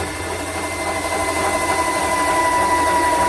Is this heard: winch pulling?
yes